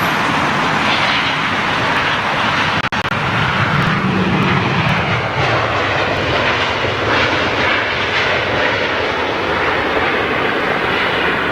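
A KLM Boeing 737 airliner arriving at London Heathrow in stormy weather, a loud, steady engine roar blended with wind and ambient rumble, with one sharp click early on.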